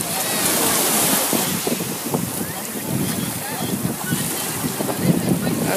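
Ocean surf washes up on a New Jersey beach at a wind and sea festival, a continuous loud rush of breaking waves mixed with heavy wind buffeting the microphone.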